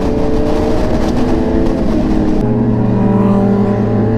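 A motorcycle engine revs hard and steadily on an open road before wheelies, loud and close throughout, its tone dropping to a lower throb partway through.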